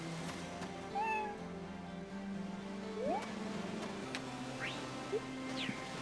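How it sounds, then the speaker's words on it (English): A cat meows in the Harvest Moon: Animal Parade video game, several short rising mews spaced across the clip over soft game background music. "There's a cat out here!"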